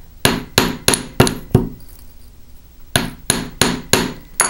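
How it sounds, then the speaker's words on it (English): Hammer blows flattening and splaying a rivet on a metal disc bracelet, five sharp ringing strikes in quick rhythm, a short pause, then four more, close and loud with no talk. "I actually hit it and splay it out using my hammer."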